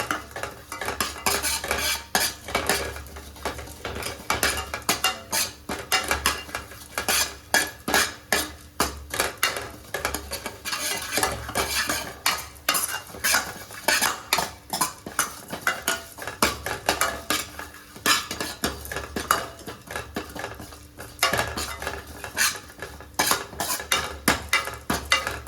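Toor dal is sautéed in a pan with rapid, continuous metal-on-metal scraping and clinking from a spoon, close and busy throughout, over a faint sizzle.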